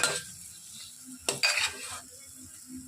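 Spoon stirring and turning malai halwa as it roasts in ghee in a pan, scraping strokes with a couple of sharp metallic clinks against the pan and a soft sizzle between them.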